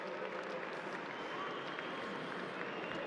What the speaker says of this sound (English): please give a round of applause to Dylan Main and congratulate South Fremantle for a fantastic season